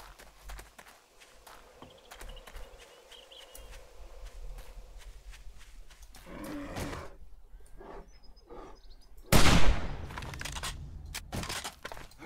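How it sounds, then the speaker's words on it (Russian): A single loud gunshot cracks out during a bear hunt in the survival video game 7 Days To Die, after several seconds of quieter footsteps and movement in the game world. "Да, это был, похоже, финальный выстрел."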